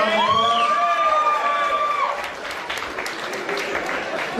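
A gala audience at a charity foundation's annual benefit breaks into sustained applause, with a few cheering voices and whoops riding over the dense clapping early on before it settles into steady, even hand-clapping.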